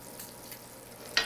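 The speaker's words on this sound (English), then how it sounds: "We just want a nice little sear, just like that." Redfish sears in a hot skillet with a soft, steady sizzle throughout, ending in a brief sharper crackle.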